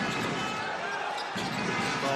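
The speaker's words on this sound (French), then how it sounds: "qui dribble beaucoup" A basketball is dribbled during a professional game between MSB and ASVEL, its bounces pattering on the court beneath the loud, constant roar of the arena crowd.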